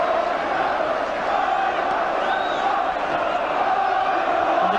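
Around 5,000 Newcastle United fans chant loudly and continuously at an away Division Two match against Rotherham, a dense, roaring crowd sound that holds steady throughout.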